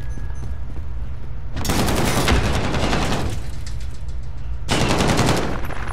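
Automatic gunfire in Call of Duty Modern Warfare, two loud sustained bursts of rapid shots, each lasting over a second, separated by a quieter pause with a low hum underneath.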